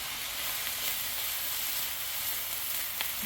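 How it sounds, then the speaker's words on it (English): Green onions sizzle in a hot pan for Spam fried rice, giving a steady, dense frying hiss that holds evenly throughout, close up and with no voices. "Yeah, I'm putting in the green onions now."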